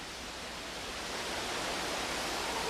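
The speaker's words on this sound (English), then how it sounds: "Look at that waterfall." A waterfall in Baños, Ecuador roars as a steady, dense wash of falling water, close and continuous with no voices over it.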